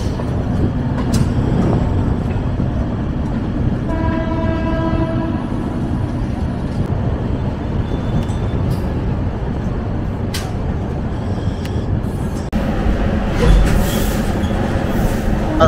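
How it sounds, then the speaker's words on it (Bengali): Rajdhani Express 20506 train running fast alongside a local train near Shivaji Bridge, a steady loud rumble of wheels and carriages throughout, with a horn-like tone briefly rising mid-clip and a louder surge near the end. "20506 আর লোকাল ট্রেনের মধ্যে এখানে একটা কিন্তু রেস হচ্ছে, দেখুন।"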